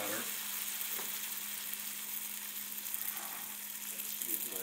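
Gluten-free pancake batter frying in a hot pan gives a steady, even sizzle that holds at a constant level throughout, with no talking.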